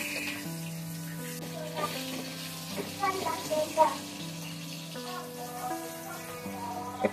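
Red amaranth leaves (lal shak) fry in a pan with crushed garlic, a soft steady sizzle sitting under tonal background music, with a few stirring knocks along the way.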